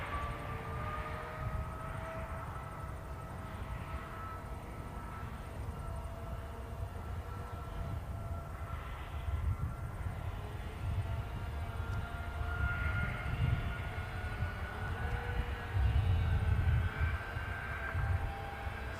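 At Christchurch airport, an aircraft builds engine power and accelerates down the runway for takeoff, a steady roar with rising whining tones that swells toward the end, heard from a distance with no talk.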